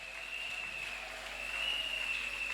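A church congregation applauds at a celebration service, a dense continuous clapping that holds steady throughout, with a sustained high ringing tone over it and a sharp knock at the very end.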